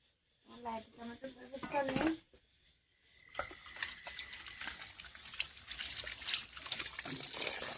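Cut pieces of koi fish washed in water at night: someone speaks briefly, then after a pause comes a continuous splashing, trickling wash of water and handling, close and steady.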